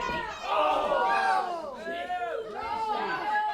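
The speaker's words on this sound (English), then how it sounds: "Listen to this crowd. They're on their feet." A wrestling event crowd on its feet, cheering loudly, a continuous roar of many voices swelling and dipping, with a commentator talking over it.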